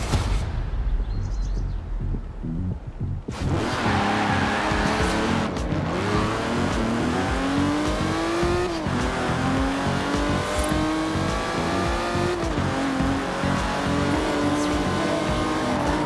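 Engines of British cars rev hard in Forza Horizon 4, climbing through gear changes with tire squeals, loud and close throughout a race.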